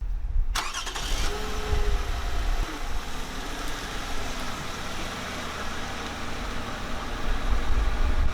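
A car engine turns over and catches, then settles into a steady, close running rumble with broad road-like noise that swells slightly toward the end, as if pulling away.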